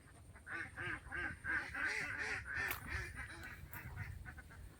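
A flock of African ducks in a village waterside area in Kumarakom, Kerala, giving a run of repeated nasal quacks in quick, uneven rhythm, fairly faint and at a moderate distance.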